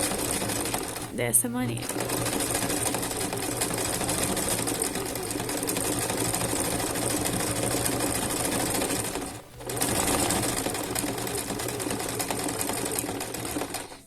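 Sewing machine running a zigzag stitch over fabric lining for a crochet bag, a close steady mechanical whirr with a short pause near the middle, while someone speaks briefly over it.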